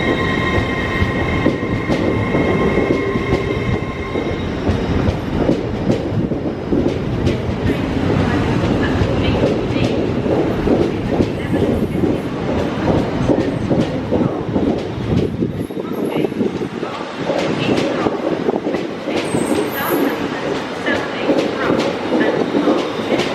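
A Class 801 passenger train, unit 801 226, pulls out of Leeds on the East Coast Main Line for King's Cross, its steady rumble and clatter of wheels continuous and fairly loud throughout.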